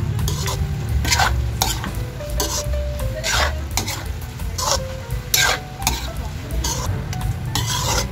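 Chop suey with sautéed pork liver being stirred in a sizzling pan, with rhythmic scraping and clattering strokes of a utensil against the pan over a steady close fry, and no talk.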